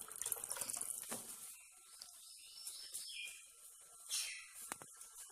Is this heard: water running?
yes